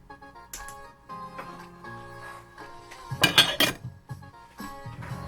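A metal lid clatters down onto a pot of cooking Vifon Viet Cuisine Mushroom instant noodles in a brief cluster of clinks and knocks, close and fairly loud, with quieter kitchen hum before and after.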